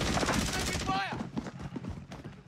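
A voice imitates the rapid gunfire of an M4A1 assault rifle from Modern Warfare 2, delivering a quick burst of close, loud vocal bursts followed by a short trailing sweep.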